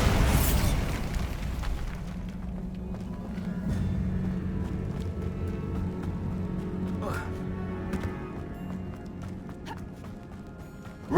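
A Bombarda blasting spell goes off in the video game Hogwarts Legacy: a loud, sharp burst at the start, then a lingering low rumble and scattered smaller crackles under steady background game noise.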